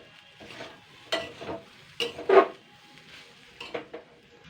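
Fish roe frying over medium heat in a kadai, sparse scraping and clinking strokes of a metal spatula against the pan over a faint background sizzle, with a few sharper knocks and no voices.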